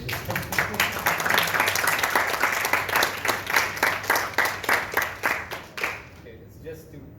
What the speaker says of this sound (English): Usually I expect a round of applause